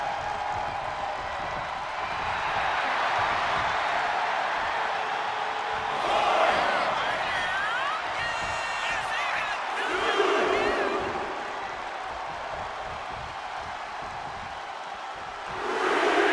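Crowd noise from the wrestling video game WWE 2K25 forms a steady, moderately loud arena roar with swells of cheering, mixed with a commentator's voice and match effects.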